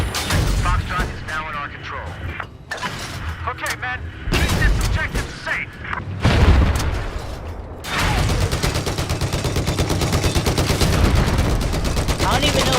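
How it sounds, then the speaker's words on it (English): Machine gun on an M1 Abrams tank in the video game Battlefield 4, loud sustained bursts of rapid automatic fire, with booms and battle noise, ending in a long continuous rattle, with voices talking over parts of it. "I don't even know if my machine gun is doing anything."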